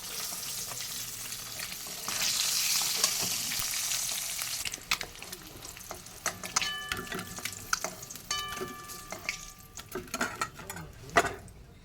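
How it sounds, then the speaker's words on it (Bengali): White cumin seeds hit hot oil for tempering while making an egg curry with small potatoes, giving a loud hissing sizzle for several seconds that settles into lighter crackling mixed with scattered clinks and stirring, with no talk. "ফোড়নে আমি আজকের সাদা জিরে ফোড়ন দেবো"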